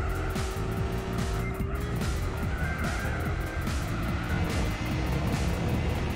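A race car in Gran Turismo 4 roars steadily through a series of turns, the engine note rising and falling with gear changes and faint tire squeal, loud and continuous with no talking.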